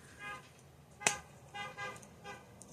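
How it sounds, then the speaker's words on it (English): A car horn toots several times out in the street, faint and distant, with a sharp click partway through. "That car just honked its way down the entire street."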